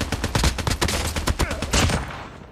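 Rapid gunfire from a weapon in the Call of Duty Mobile video game, with dense, loud bursts of shots that repeat in quick succession and stay sharp and close throughout.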